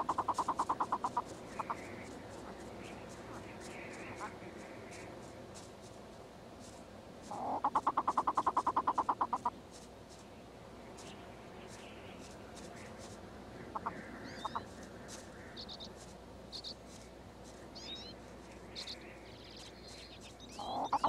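Prairie grouse call in the open with short bursts of clucking, cackling notes separated by quieter stretches, moderately distant and fairly faint.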